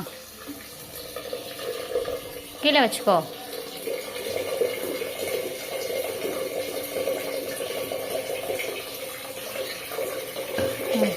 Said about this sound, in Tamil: இதில் தண்ணி பிடிச்சி உரம் வைக்கணுமா? ஆமாம், தண்ணி ஃபுல்லாக பிடி.